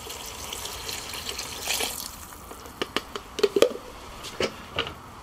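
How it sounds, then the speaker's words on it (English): Broth poured into a pot, a faint liquid trickle followed by scattered splashes and drips, close by, no talk. "So what we're going to do now is we're going to add the broth."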